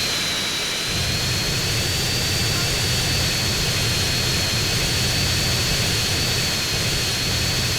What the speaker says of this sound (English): A Hydra jet just like flying right above your head, about a few feet off the ground.